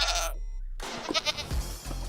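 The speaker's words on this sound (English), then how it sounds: "we now have unique goat sounds in Minecraft" Goat bleats recorded as creature sounds for the video game Minecraft: a few short, close, wavering cries over a steady low hum, with no one talking.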